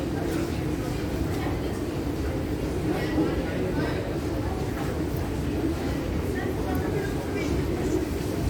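A metro train rolls into an underground platform in Istanbul's Nişantaşı, giving a steady, loud low rumble and rattle that continues throughout, with station noise around it.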